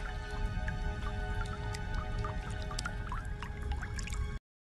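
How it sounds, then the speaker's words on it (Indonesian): Water drips from a frozen water source inside a cave, soft irregular droplet plinks scattered over a steady low background hum, close and fairly quiet. "membuka mulut di bawah tetesan air beku tersebut"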